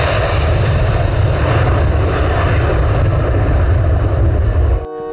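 A passenger airplane takes off with a loud, steady engine roar that holds for nearly five seconds before cutting off abruptly near the end.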